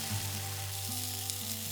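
Mung bean jelly pieces dropped into a very hot oiled pan, a steady close sizzle of frying with a low kitchen hum beneath and no speech.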